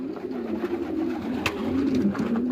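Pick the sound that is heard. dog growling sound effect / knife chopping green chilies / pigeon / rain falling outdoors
pigeon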